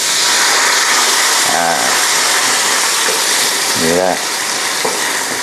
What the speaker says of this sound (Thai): ผัดกะทิให้หอมเลยครับ